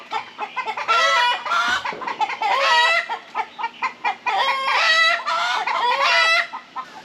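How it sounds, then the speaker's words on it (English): A hen clucks at night in a backyard poultry flock, a close, loud run of repeated clucks and squawks in uneven bursts, with a faint steady hum underneath and no talking. "Had to wait on a chicken to shut up again"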